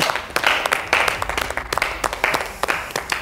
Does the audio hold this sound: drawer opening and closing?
no